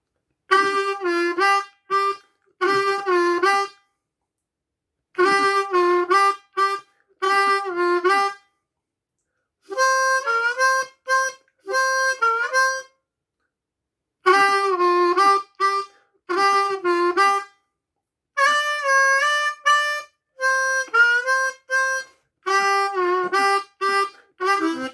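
Blues harmonica plays a turnaround phrase in a beginner lesson on bending notes. Short clear reedy phrases come close up, separated by regular silent rests, with no talking.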